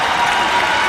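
Crowd cheering and applauding inside the University of Michigan indoor track building during a women's 4x400m relay at the Simmons-Harvey Invitational, a steady, dense roar that fills the whole moment without a break.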